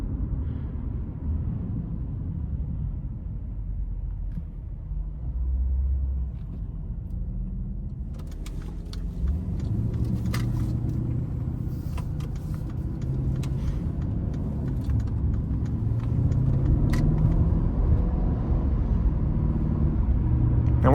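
A 2020 Mercedes-Benz SL550 in comfort mode under light throttle: a low, steady engine rumble and road noise from inside the cabin, smooth and subdued, with faint clicks and small knocks and no voices.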